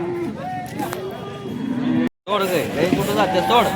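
Cows moo repeatedly, loud and close, at the Sangola cattle market, over a busy background of crowd chatter and voices.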